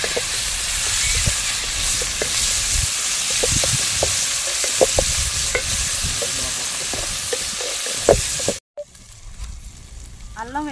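Onion frying in a hot pan, a steady close sizzle with intermittent stirring scrapes, cut off abruptly near the end before a quieter stretch.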